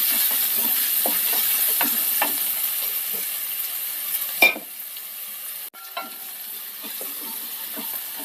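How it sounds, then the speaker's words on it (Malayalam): Crushed garlic, shallots and black pepper sauté in hot oil for rasam, a steady close sizzle broken by scattered stirring scrapes and one sharp clatter, with no talking. "വെളുത്തുള്ളിയും ചുവന്നുള്ളിയും കുരുമുളകും. ഒന്ന് വഴറ്റിയെടുക്കാം"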